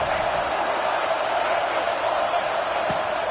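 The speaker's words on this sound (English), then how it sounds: "Listen to this crowd just shaking the girders of this place, trying to help their defense." Steady, dense roar of a stadium crowd at the Super Bowl in Madden 25, a continuous broadband wash holding at one level throughout with no distinct voices standing out.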